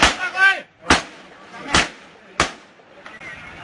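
Gunshots ring out during an armed standoff between police and a suspect, four sharp loud cracks spaced unevenly with echoing tails, the first partly mixed with shouting voices.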